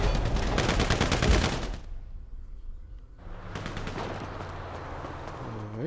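Rapid machine gun fire in a GTA 5 deathmatch, dense bursts of automatic shots that pause briefly before another loud, fast volley resumes, with no talk over it.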